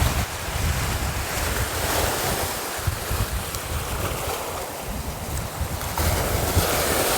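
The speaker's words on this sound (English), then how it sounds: "Got some waves on us here today." Ocean waves washing against the rocky shore at a Bonaire dive entry point, a continuous loud surf roar mixed with gusty wind buffeting the microphone, and no talking.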